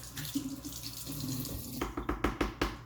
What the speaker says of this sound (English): And then I basically just rinse everything with water.